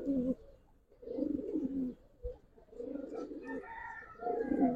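Silver, army and khaki fancy pigeons in a pen coo in repeated low throaty bursts, close and clear, with brief pauses between the calls.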